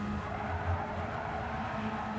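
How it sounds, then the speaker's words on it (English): In a racing video game, the tires scrub with a continuous rough squeal under a steady engine drone. The sound is sustained and fairly loud throughout the short moment, with no talking. "I'm just scrubbing the tires"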